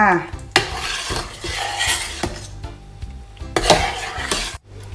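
A utensil stirs food around in a pan, scraping and clattering against the metal in repeated strokes, close up with a faint sizzle underneath, while making sauce for red pork rice.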